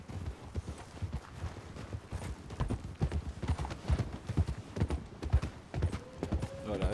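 A ridden horse's hooves clip-clop in a steady, uneven rhythm close by, with a faint whinny near the end and light talk underneath.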